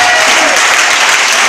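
A church congregation bursts into loud, dense applause, a continuous wash of clapping from many hands filling the room, close and sustained with crowd murmur mixed in.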